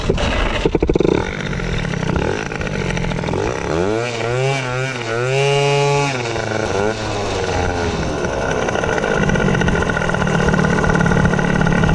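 An MVT G1 moped engine runs steadily throughout, with a rising and falling rev as the throttle is worked in the middle, close and loud.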